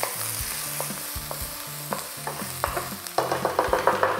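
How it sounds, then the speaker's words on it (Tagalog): Onion sizzles in hot oil in a pan, with rhythmic spatula scrapes and taps over a steady fry that grows louder toward the end; no one speaks. "Igisa mo lang itong sibuyas sa mga 30 to 35 seconds"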